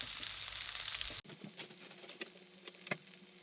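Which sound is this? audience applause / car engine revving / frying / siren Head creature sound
frying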